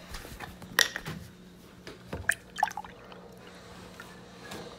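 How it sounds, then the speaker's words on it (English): Chocolate milk poured into a glass gives a faint, brief liquid trickle with a few soft gurgles and drips in an otherwise quiet room. "You pour your chocolate milk in a glass."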